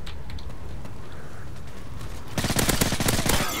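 Video game gunfire: quiet ambience with faint distant pops gives way to a loud, rapid burst of automatic shots that keeps hammering through the final second, with no talking.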